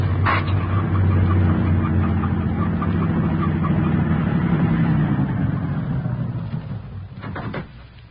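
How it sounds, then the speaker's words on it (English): A truck rolls past at night with its headlights off, a steady low engine rumble holding close and loud before fading away near the end, with a couple of brief knocks as it goes. "The truck has no headlights on, but it's going to pass right by us."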